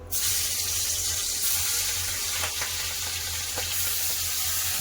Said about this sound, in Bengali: সরষার তেল দিয়ে দেবো মাছ ভাজার জন্য তেল গরম হয়ে গেছে মাছ ছেড়ে দেবো